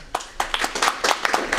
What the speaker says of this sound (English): So really applause to the entire bridge strategic plan team.